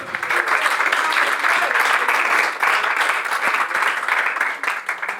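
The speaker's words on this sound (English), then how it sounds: "Let's have a big round of applause for Zachariah." Wedding guests break into a big round of applause for the page boy, a loud, thick, continuous clapping that stays close and full throughout.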